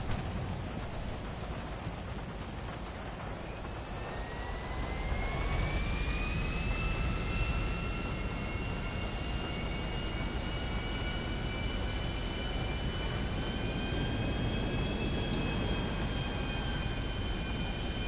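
An airplane in GTA Online flies with a steady jet-engine roar that swells after a few seconds and holds loud and continuous, its whine rising slightly over the stretch, with no talking.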